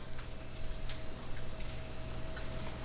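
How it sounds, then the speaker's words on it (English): A continuous high, shrill trill of crickets runs without pause throughout, with a few faint clicks; no one speaks. "Crickets. You hear those crickets?"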